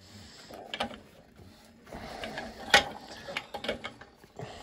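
A 24-inch Ridgid pipe wrench works a fitting on a cast iron steam boiler, giving several sharp metallic clicks and ratcheting clanks, one strong bang near the middle, amid workshop handling noise.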